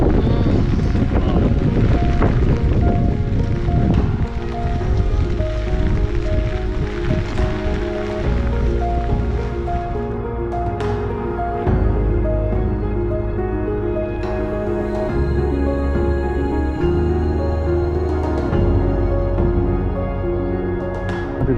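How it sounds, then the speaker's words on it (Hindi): Monsoon rain and strong wind roar steadily on a highway near Lonavala, a loud continuous wash of wind buffeting the microphone with tonal hum layered underneath throughout. "बारिश हो रही है"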